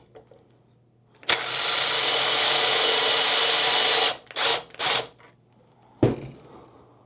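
An impact wrench hammers steadily on a nylock bolt of a propane tank bracket for about three seconds, followed by two short bursts and one brief final blip, close and loud in a quiet room.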